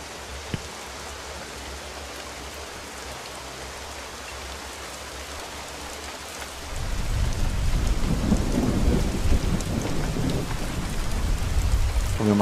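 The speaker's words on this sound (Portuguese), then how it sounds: "Espera aí, tá chovendo bastante." Rain and thunder in the survival game The Isle, a steady hiss of rainfall that swells into a heavier downpour with deep rolling thunder rumbling underneath for the second half.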